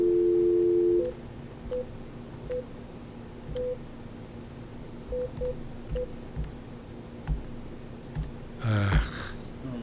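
Telephone line tones sound during a failed call: a steady tone cuts off into a series of short dialing beeps under a faint hum, then ends in a burst of garbled line noise.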